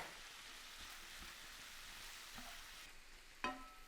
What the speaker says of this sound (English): add in 2 cloves of minced garlic and cook